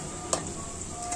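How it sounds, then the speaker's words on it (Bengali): Thin strips of chicken breast frying in a pan, giving a steady soft sizzle with a faint tick or stir near the start, heard alone and close. "ভাজা করে নিচ্ছি।"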